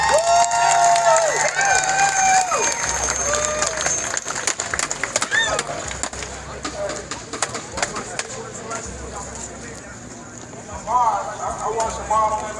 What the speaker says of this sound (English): let's clap it up for them bikers